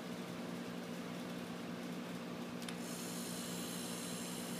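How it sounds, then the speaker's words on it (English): An old air compressor converted to pull a vacuum on a cylinder runs with a low, steady mechanical hum and faint hiss, fairly quiet and constant throughout. "So now we're going to plug the compressor in, and it should pull a vacuum on our cylinder."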